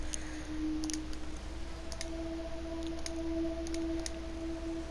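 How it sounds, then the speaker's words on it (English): Keyboard typing during a video game session: sparse clusters of light clicks and taps, with short bursts spread across the stretch, heard over a steady electronic hum and tones, with no talking. "Hang on. We are typing."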